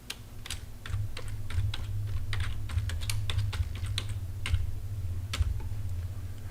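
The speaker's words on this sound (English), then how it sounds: "we're going to type in Multicast Scope 1." Steady keystrokes on a computer keyboard during a Windows Server DHCP lab, with close, crisp clicks in a fairly even rhythm over a low background hum, and no voices.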